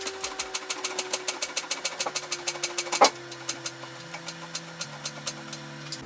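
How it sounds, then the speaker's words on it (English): Repeated clicking strokes of a car jack lifting a 2015 Subaru Impreza FB20, a steady mechanical ratcheting rhythm of about three pumps per second, close and clear, briefly louder midway, with no talking. "let's jack it up."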